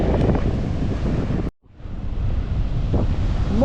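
Strong wind buffets the microphone over crashing Mediterranean surf on the Egyptian coast, a loud continuous roar that cuts out briefly in the middle before returning.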